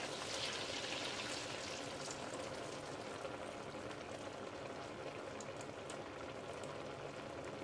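Pasta in a long pan of water simmers steadily at close range, a continuous bubbling hiss with no voices.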